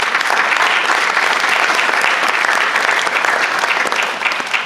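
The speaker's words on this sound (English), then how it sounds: "We applaud him for that." Loud, sustained applause from an audience at a university award event, a thick wash of many clapping hands close by, steady and unbroken for the whole stretch.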